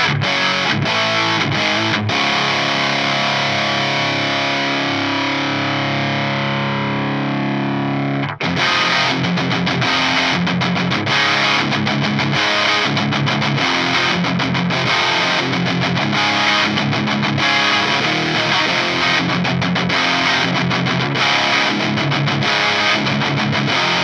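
Heavily distorted electric guitar through a Lichtlaerm Audio Total Distortion Worship mk2 pedal plays alone and loud, first a long sustained chord, then a driving run of choppy, rhythmic chords.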